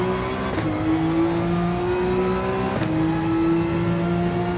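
A Ferrari race car engine in Gran Turismo 7 holds a steady, loud, close, high-revving tone, with two brief gear-change dips before pulling again, and no talk over it.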